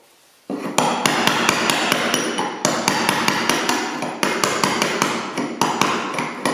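A hammer drives a chisel into cement under old living-room parquet, a rapid series of loud, sharp metallic strikes in a steady rhythm, close by, starting after a brief quiet.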